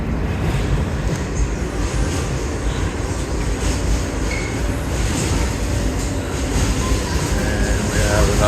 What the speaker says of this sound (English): And we have another J train heading into Manhattan.